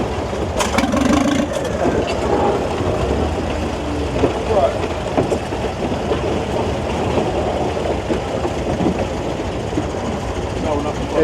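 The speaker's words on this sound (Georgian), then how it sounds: "რამდენი ნავები მოვიდა." Motorboat engines on a crowded Bangkok canal where boats are jammed together, a steady rumbling drone of several engines at close to middle distance, with louder knocks and clatter early on.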